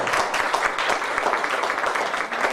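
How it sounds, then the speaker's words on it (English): An audience applauds at an illustration lecture in Bratislava. The clapping is dense and steady, a full burst of many hands heard close and fairly loud. "Again, big applause"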